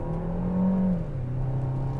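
A 2018 Peugeot 5008 in sport mode takes a corner, its engine a steady close hum that rises briefly, then settles to a lower, even tone, with no talk over it.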